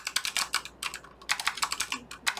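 Rapid, irregular clicking of keys on a computer keyboard while an email is typed, in quick bursts with brief pauses, close and clear with no voice.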